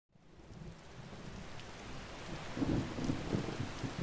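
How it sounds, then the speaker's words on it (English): Steady rain with rolling thunder in the Rift region of the Skyrim video game, a soft hiss that swells in from silence, with low rumbles building louder toward the end and no voices. "It rains a lot in the rift."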